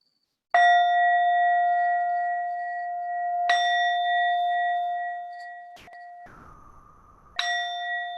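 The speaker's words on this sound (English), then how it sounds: "until you hear the sound of the bell" A meditation bell rings three times with a long, pure, sustained ring each time and slow decay, separated by several seconds of quiet; between strikes a brief scraping rumble is heard.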